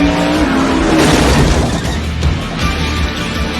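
A Ford Expedition fitted with a Pandemyk performance tune accelerates hard, its engine a loud, steady roar heard from inside the cabin with no talk over it.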